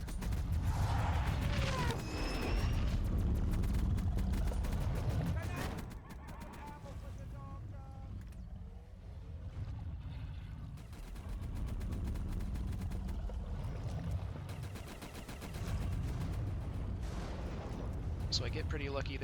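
Gunfire from upgraded weapons pounds at the head of the Leviathan boss in a video game, heavy booming shots and blasts in dense bursts with quieter mechanical stretches between.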